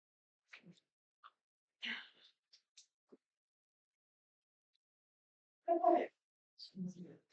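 A single sharp sneeze bursts out near the end, surrounded by quiet, scattered small noises and breathy sounds in an otherwise silent room.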